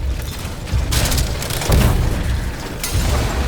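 An enemy opens fire in Steelrising: three heavy, booming shots spaced about a second apart rumble over a continuous background of game noise.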